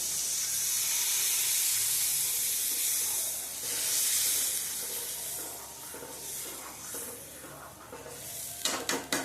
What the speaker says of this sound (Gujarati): હવે આપણે એની અંદર છાશ નાખીશું, છાશનું શાક કરવા માટે.